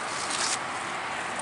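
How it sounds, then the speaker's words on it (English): Steady broadband traffic rush from a busy street just below a cemetery's wrought iron fence, a continuous distant wash of passing vehicles with a slight swell partway through and no voices. "Now the noise you're hearing is a street that's just below us"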